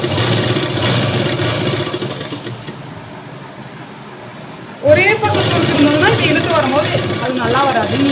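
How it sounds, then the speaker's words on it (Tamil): A sewing machine stitches an old nightie into a night dress, whirring steadily and loud for the first few seconds, then pausing before speech takes over over a softer motor hum. "இல்லாமல் ஸ்டிச் பண்ண போகிறேன்"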